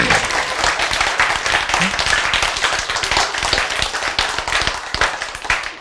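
An audience claps and applauds steadily throughout, a dense, even wash of many hands at close range with no pauses.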